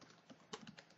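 Faint, quick keystrokes on a computer keyboard, a handful of soft clicks in under a second, typed into a web browser.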